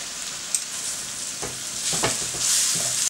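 Onions and tomato paste sizzling and frying in a tagine, a steady bright hiss with a few soft stirring scrapes partway through.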